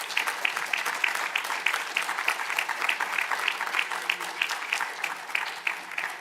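An audience at a museum symposium applauds alums in steady, rhythmic clapping with distinct regular beats, moderately loud and continuous throughout, with no talking over it.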